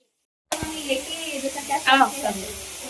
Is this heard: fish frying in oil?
yes